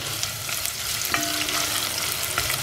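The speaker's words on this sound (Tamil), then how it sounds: "வெங்காயம் வதங்கிடுச்சு" Onions sautéing in a pan with a steady, close sizzle and a few light clicks and scrapes of stirring.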